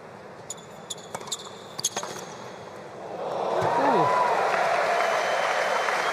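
At a United Cup tennis match in Sydney, France v Norway, a few sparse claps and ball bounces sound early, then a broad crowd roar swells and holds. A commentator talks over it.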